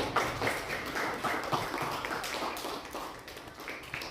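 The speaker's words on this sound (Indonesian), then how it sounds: "Tepuk tangan untuk kelompok 1." Classroom applause for a student group after their presentation, a steady patter of many hands clapping at moderate volume throughout, with a faint voice or two mixed in.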